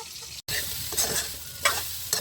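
Fried rice sizzles steadily in a pan over a wood fire, with scraping stir strokes at intervals and a brief dropout near the start; no voices.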